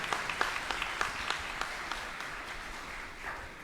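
Congregation in a Catholic church applauding at Sunday Mass, a loud run of clapping with a few sharp individual claps standing out before it fades.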